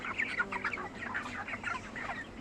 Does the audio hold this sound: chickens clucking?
yes